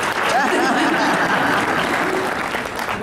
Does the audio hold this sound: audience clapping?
yes